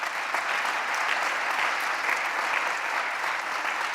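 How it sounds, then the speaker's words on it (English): A crowd at an awards ceremony claps steadily in a dense burst of applause, sustained and even for a few seconds. "Please give a robust round of applause"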